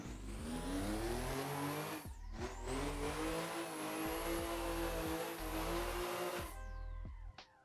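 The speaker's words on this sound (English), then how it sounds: "The car couldn't catch the grip to just get into the next angle, and you spun out." A drift car in the Assetto Corsa racing game revs hard with its engine note rising and falling through gear changes, then loses grip and spins out, ending in a fading whine with no talk.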